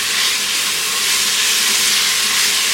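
Cinnamon, cardamom, cloves and cashews frying in oil in a pressure cooker for paneer peas pulao, giving a steady, loud, unbroken hiss and sizzle throughout with no talking.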